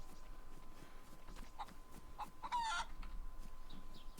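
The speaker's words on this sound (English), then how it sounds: "I'm going to find this chicken and get its feathers." Chicken in the video game DayZ, clucking in short bursts against a quiet low outdoor ambience, fairly close and moderately loud.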